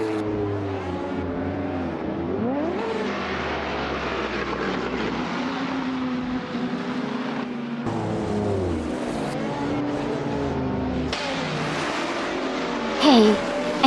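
A 2015 McLaren 570S races on the Bowman Gray Stadium figure-8 track in a racing video game. Its engine drones steadily, with repeated rising revs and shifts, and no talk over it.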